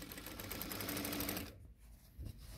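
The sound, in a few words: sewing machine sewing with hemming presser foot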